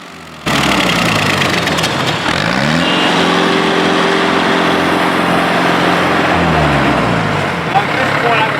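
Stump grinder engine running steadily and loudly close by, its pitch rising and holding as the machine is pulled back during stump grinding, a continuous drone throughout.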